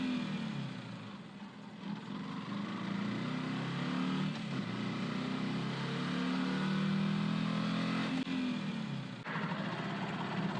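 A motorbike rides along a road near the Kolar highway during a morning ride in Chikkaballapura. A steady, close engine drone mixes with rushing wind and rises and dips gently without a break. No one talks.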